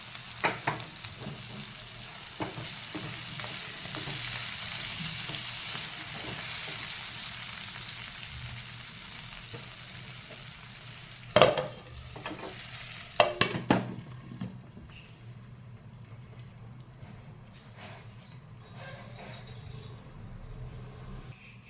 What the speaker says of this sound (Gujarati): વચ્ચે વચ્ચે એને હલાવતા રહેવું જેથી એ ચોંટી ના જાય